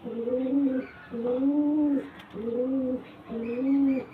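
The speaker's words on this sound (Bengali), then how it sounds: "খুব সুন্দর পায়রা।" Pigeons coo nearby in four rounded, even phrases separated by short pauses, with no voices over them.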